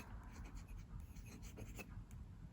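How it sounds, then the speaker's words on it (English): A fountain pen nib draws quick squiggles on paper with a soft, continuous scratchy rasp in short strokes, very close and faint. "I'll just do a couple of right-handed squiggles for you."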